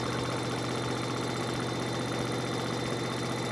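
A sewing machine runs steadily while stitching along a seam line on a quilt block of fabric, a continuous close motor hum with a faint regular pulse and no talking.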